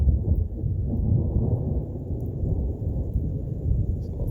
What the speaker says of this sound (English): little thunder. Getting a little storm rolling through right now.